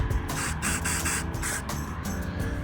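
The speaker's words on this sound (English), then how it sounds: "Give it a couple sprays." Continuous hissing spray bursts, several short pulses of aerosol paint spraying close by, with faint background noise.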